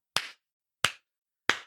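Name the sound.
slow hand clapping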